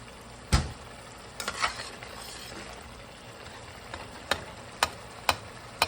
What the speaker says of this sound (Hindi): अभी टमाटर डालेंगे।